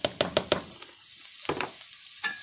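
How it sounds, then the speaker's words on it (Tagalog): Chopped onion and garlic sizzling in hot oil in a pan, a few sharp crackling bursts at the start, then quieter intermittent frying sounds, close up. "Hintayin lang po natin mag-golden brown din ang sibuyas. Kasama ang bawang."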